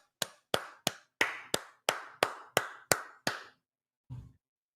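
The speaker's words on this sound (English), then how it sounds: "Everyone clap it up for King Lou." Ten sharp, separate hand claps in a steady rhythm, close and dry in a quiet room during a basketball watch party, followed after a pause by one soft, low thump.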